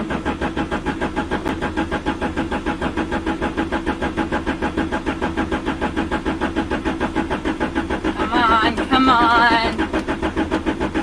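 A car engine cranks over and over without starting, a steady rhythmic churning of the starter that grows briefly louder near the end, while a voice speaks underneath.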